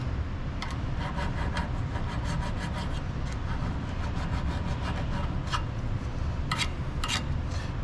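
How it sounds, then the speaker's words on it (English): Rust is scrubbed off a brake caliper bracket on a 2016 Subaru Forester during a brake job. Close, continuous rasping and scraping strokes in a quick, uneven rhythm carry on without any talk. "you want to make sure you clean this caliper bracket up quite decent when you're doing a brake job"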